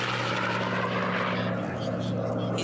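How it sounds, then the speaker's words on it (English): Powerful unlimited class racing airplanes roar around the course at the Reno Air Races, a loud continuous propeller engine drone with a slight pitch shift as they pass, while an announcer talks over it. "Clicking off the miles very, very quickly here are these powerful airplanes."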